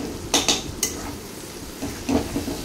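Tomato, green chili and ginger-garlic paste are stirred in a frying pan, with a few sharp utensil clinks and scrapes over a low, continuous sizzle.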